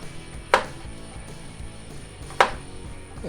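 Two sharp knife chops halving garlic on a cutting board, spaced about two seconds apart, each a crisp, close thunk with no talking.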